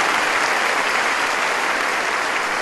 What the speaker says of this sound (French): Un grand applaudissement pour ceux d'Ortega.